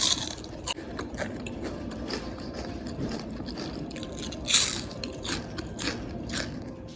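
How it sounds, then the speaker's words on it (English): Crunchy biting and chewing of fried mozzarella-stuffed onion rings close up, with repeated crisp crackles over a steady low background, no talking. "And now I want you to listen to the sound when I eat."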